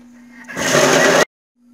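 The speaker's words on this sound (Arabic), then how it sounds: "من بعد ما طحنت البروكلي ديالي" A kitchen blender whirs loud and close for about a second while grinding broccoli for soup, then cuts off abruptly into silence.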